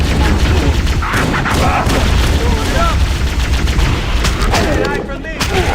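Rapid, loud gunfire in the video game Halo: Combat Evolved, a sustained barrage of shots and impacts with battle effects layered over a busy soundscape, continuing without pause through the whole stretch.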